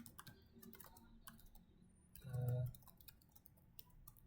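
Quiet clicks from a computer keyboard tap out in irregular bursts of keystrokes, close and soft, broken by a brief low thump and a faint hum partway through.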